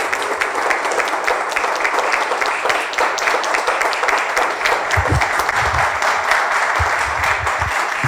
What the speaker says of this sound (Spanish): Y un aplauso para usted.